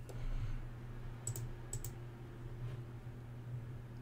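Several light clicks from a computer mouse or keyboard sound faintly and close by over a quiet background hiss, with no speech.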